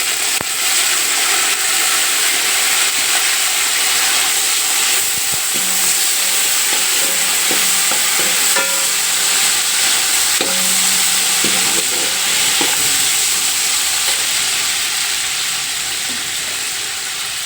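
Fresh mint and coriander leaves sizzle and fry in an oily pan while a spoon stirs them for a spicy chicken dum biryani, making a steady close hiss with occasional scraping strokes and no talking.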